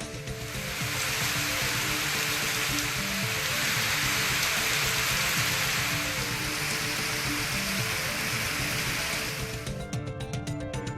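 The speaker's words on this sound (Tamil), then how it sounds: "மாவட்டத்தின் பல்வேறு பகுதிகளில் பலத்த மழை பெய்தது" Heavy rain pours down steadily, a loud dense hiss of drops hitting surfaces that holds without a break for about ten seconds, then eases slightly near the end.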